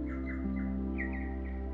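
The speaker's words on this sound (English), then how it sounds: "the remote nature of this site means that you're really sharing it with the native birds" Native New Zealand birds call in the bush: repeated bright chirps and warbling notes, fairly close, over a steady low hum.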